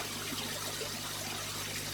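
Water trickling and gurgling in a home fish tank as a turkey baster draws it up, a steady soft liquid wash with a low mains hum underneath, close and fairly quiet.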